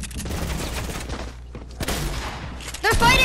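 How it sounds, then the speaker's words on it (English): Rapid gunfire bursts from players shooting at each other in a video game, a steady clatter of shots at moderate volume, with a louder burst near the end. "they were shooting at each other"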